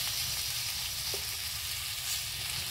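Food frying in a pan, a steady bright crackling sizzle that fills the whole stretch with one faint tap near the middle, with no talking.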